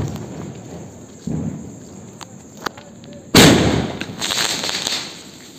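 Diwali firecrackers set off at midnight: a sharp, loud bang followed by crackling bursts and rumbling echoes, with a few smaller pops before it and faint voices in the background.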